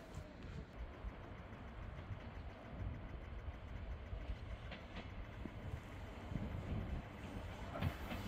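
A local train rumbling along the tracks in Japan, a low, steady rolling drone with faint clicks of rail joints, heard from inside the car at a quiet level.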